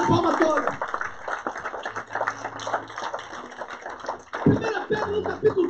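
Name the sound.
congregation clapping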